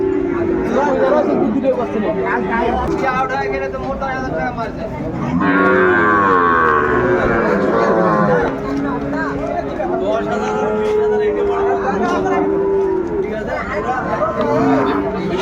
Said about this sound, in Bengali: শাহিওয়ালের ষাঁড় বাচ্চা আমরা দেখছিলাম এখানে, বেশ সুন্দর কোয়ালিটির গরুগুলো।